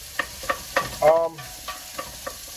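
Cabbage, onions and other vegetables are stirred in a hot pan for soup, with a run of scraping stirs and one longer sizzling push, each stroke close and distinct and no talking.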